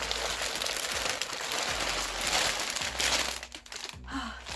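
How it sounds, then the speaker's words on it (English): Packing paper crumpled and crinkled continuously by hand, close and loud, with dense rustling and crackling that shifts in intensity over several seconds. "I love packing paper. This is packing paper."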